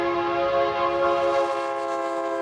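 A train on America's first transcontinental railway sounds a loud, sustained horn or whistle chord that holds steadily for about two seconds before easing off, with no talking.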